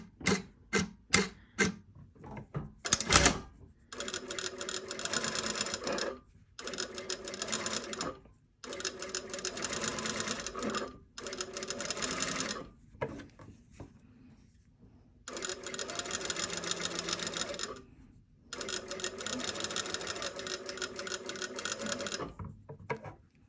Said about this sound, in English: I'm going to understitch.